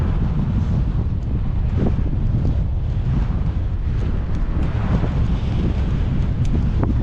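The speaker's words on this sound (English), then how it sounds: "we've really got a headwind right here" Strong headwind buffeting the microphone on an outdoor bike ride along a country loop near Gainesville and Callisburg, a loud steady low roar that fills the whole stretch with no talk.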